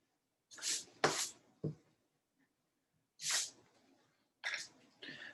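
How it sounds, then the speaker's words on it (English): A pencil eraser rubs on drawing paper in a few short, soft, scratchy bursts separated by quiet pauses. "take my eraser. I can erase this."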